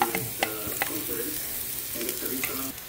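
Onions sautéing in a pan, with a steady close sizzle broken by intermittent spatula scrapes and taps.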